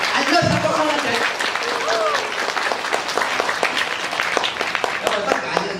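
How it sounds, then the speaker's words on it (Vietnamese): An audience at a business gathering breaks into applause, a steady spread of clapping under and around a voice speaking over it. "Rất mong những anh chị dành một tràng pháo tay thật lớn cảm ơn tất cả những đồng đội của ta"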